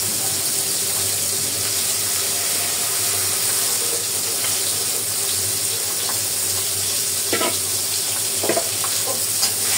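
Fish frying in a pan beside a dish with chili powder, turmeric and salt, a loud, steady sizzle with a few faint clinks from a utensil near the end.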